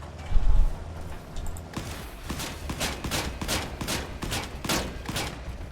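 Video game weapons fire in quick rhythmic bursts of sharp shots, fairly loud and close, after a brief low thump at the start, with little or no talk.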